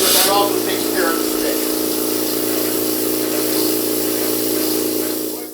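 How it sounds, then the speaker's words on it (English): A Graco Finish Pro paint sprayer sprays in a shop, producing a continuous loud hiss of air and atomized paint over a steady pump hum that holds throughout and tails off at the very end. "We're doing a spray demo in the shop here"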